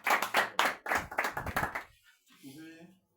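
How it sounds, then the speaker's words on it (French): A small group at a community meeting breaks into scattered, uneven clapping that dies out after about two seconds, followed by a brief quiet voice. "Est-ce qu'on peut applaudir?"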